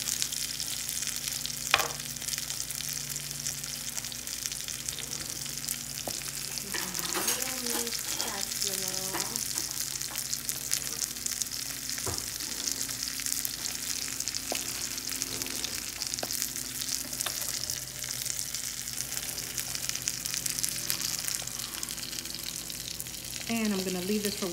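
Salmon skin-side down crisping in a hot pan, a steady loud sizzle and crackle of frying fat running throughout, with occasional light clinks and shifts of the fish, no talking.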